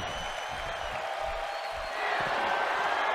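A crowd at a wrestling match in a Uniondale arena cheers and claps in a steady, excited roar that swells slightly toward the end.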